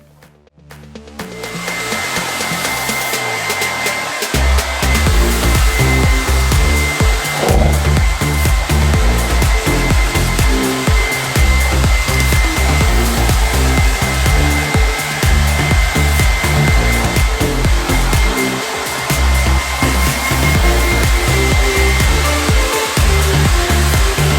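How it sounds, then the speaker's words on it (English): A hair dryer blows steadily and loudly on a washed horse's tail, a continuous broadband roar after a short quiet start that holds nearly unchanged for over twenty seconds, with no talk. "normally I wouldn't blow dry his tail if it was summer"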